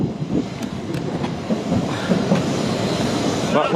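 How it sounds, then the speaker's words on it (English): Thameslink Class 700 electric train pulling into a platform at Kentish Town station, with rolling wheel clatter and rumble, rhythmic rail clicks, and a short squeal of wheels near the end. "The first train that's just arrived is a Thames link service."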